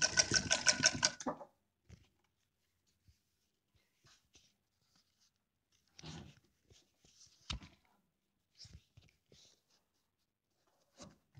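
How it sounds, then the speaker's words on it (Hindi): A sewing machine stitching fabric along the folded edges of a lehenga-chunri outfit, with buckram inside, whirs in one short burst at the start. Quiet handling clicks and taps follow, spaced out over the rest. "और किनारे किनारे पे हम सिलाई चलाते जाएंगे।"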